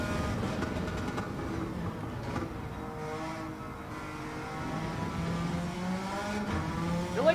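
Suzuki Escudo engine in Gran Turismo 7 at the Nürburgring Nordschleife, a steady droning roar that rises and falls through gear changes and corners, close and continuous, with a brief spike near the end.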